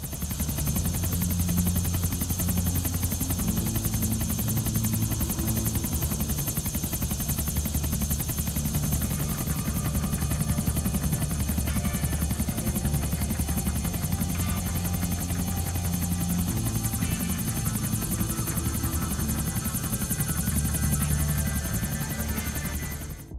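Helicopter in GTA 4 flying steadily, a continuous loud rotor drone with a low throbbing hum running the whole time, likely overlaid by GTA 5 style flying music, with no talk.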